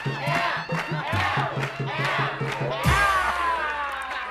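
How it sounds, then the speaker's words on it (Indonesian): A television studio audience claps in a quick, even rhythm and then bursts into loud cheering and shouting, with the crowd close and lively. "tepuk tangan dulu."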